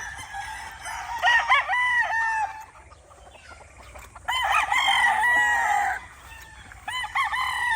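Young gamefowl stags crow in a few distinct bouts, loud and close with faint clucks between, over a quiet rumbling background.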